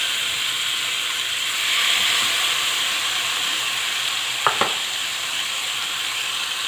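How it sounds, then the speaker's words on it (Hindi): Marinated chicken pieces sizzle steadily in a hot pan, a constant close frying hiss throughout with two brief sharp clicks near the end; no talking. "अब इसमें हम ये चिकन डालेंगे मैरिनेट किया हुआ।"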